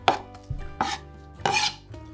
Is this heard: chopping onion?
yes